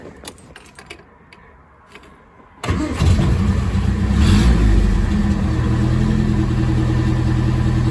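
Keys jangle briefly before a 1961 Triumph TR3A engine cranks and fires, then settles into a loud, steady idle that swells slightly, heard up close with no talking.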